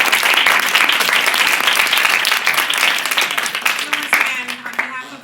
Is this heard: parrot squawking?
no